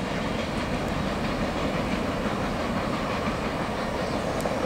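A Norfolk Southern M3R manifest freight train rolls by at track speed near Lexington, a loud continuous rumble of wagons with rhythmic wheel clatter, close and steady throughout with no talking.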